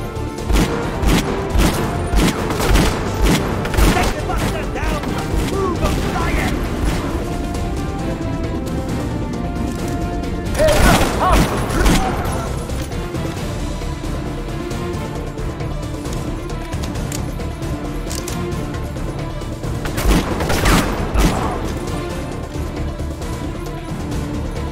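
Gunfire in the video game Conflict: Denied Ops, with dense bursts of shots and booming impacts clattering continuously and loudly, swelling into heavier crashes at intervals amid battle noise.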